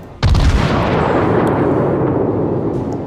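A naval gun salvo from a cruiser in World of Warships fires with one sudden, very loud boom, then a heavy rolling rumble that sustains and slowly fades over a few seconds.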